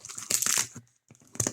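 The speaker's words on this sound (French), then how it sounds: "Donc je ouvre le colis, comme ça vous le voyez." Sharp crinkling and ripping noises come in quick bursts, a short pause, then one more tear, like tape being pulled from a taped parcel up close.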